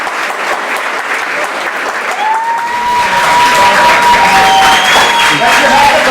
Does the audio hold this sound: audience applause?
yes